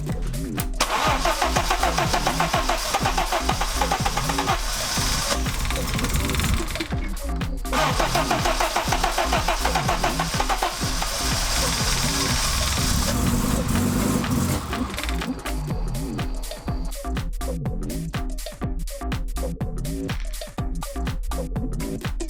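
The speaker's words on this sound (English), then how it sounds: "Super excited that we got the car running." An Audi S4 engine on a new standalone ECU cranks and catches on its first start, then runs loudly and steadily, settling into a rough idle with uneven chugging pulses toward the end.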